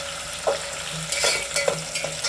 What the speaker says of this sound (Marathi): हां टॅमॅटो टाकला भाजायला।